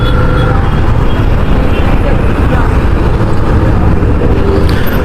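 A 2025 Honda CB300R motorcycle rides along a road, its engine and the road and wind noise forming a steady, loud drone that holds unbroken from start to finish.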